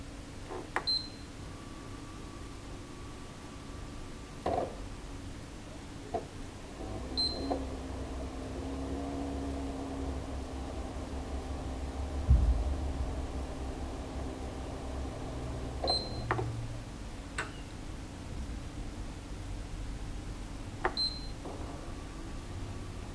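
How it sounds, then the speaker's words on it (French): A PlayStation 3 console gives several short, sharp beeps spaced out across a steady low hum while being started into safe mode, with no talking over them. "je vais vous laisser entendre pendant quelques secondes la PS3, les bips qu'il y aura"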